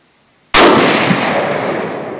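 A single loud Remington 700 rifle shot cracks suddenly after near silence, then its boom decays slowly over about a second and a half.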